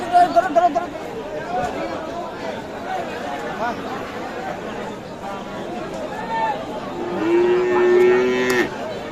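Friesian and crossbred cattle low at a busy livestock market, with a few drawn-out moos rising over constant crowd chatter and people talking.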